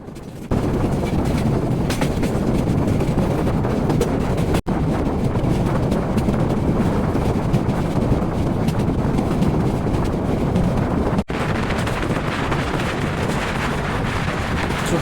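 The Parabat Express runs along the Tongi–Akhaura rail line toward Sylhet with a loud, steady rumble and rattle, heavily buffeted by wind.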